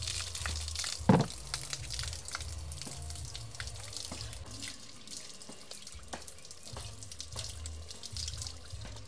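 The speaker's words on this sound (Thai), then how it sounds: "น้ำก๊อกน้ำสายนะครับผม" Water runs steadily from a tap with a constant hiss, a brief louder splash near the start, and faint drips and clinks throughout.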